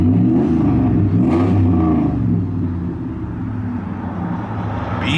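A 2003 Dodge Ram 1500 SLT quad cab with a Hemi V8 revs loudly up close, rising and falling in a steady deep rumble with some clatter and no talk.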